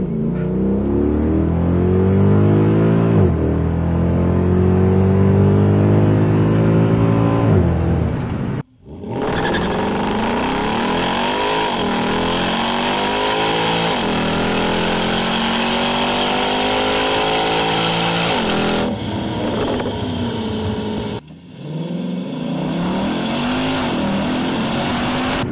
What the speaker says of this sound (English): Let's see if I can take it all the way to the red line.